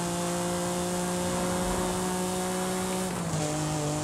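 Forza Horizon 5 car engine held high near its redline of around 8,700 to 9,000 RPM, a steady strained whine with a clear drop in pitch near the end, loud and close with no voices.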